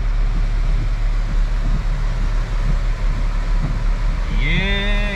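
Automatic car wash rinse cycle sprays a steady, loud broadband rush of water over a car with its windshield wipers on, continuous throughout; a rising whine or tonal hum sweeps in near the end.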